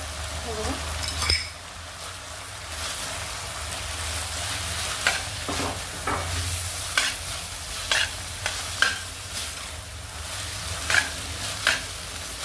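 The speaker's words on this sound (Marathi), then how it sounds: "मोठ्याच फ्लेमवर फ्लेम बारीक करायची नाही आपल्याला नूडल्स चांगला परतून घ्यायचा" Noodles tossed with sauces in a pan over a high flame sizzle steadily while a utensil scrapes and clinks against the metal at irregular intervals, close and continuous throughout.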